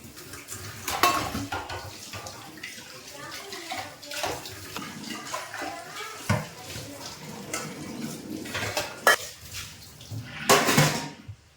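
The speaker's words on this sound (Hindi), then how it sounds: "चलिए दोस्तों अब फटाफट यहाँ पे पहले बर्तन वॉश कर लेते हैं।" Dishes, pots and utensils are washed under a running tap in a home kitchen, with clinking metal, splashing water and scrubbing in irregular bursts, loud and close throughout.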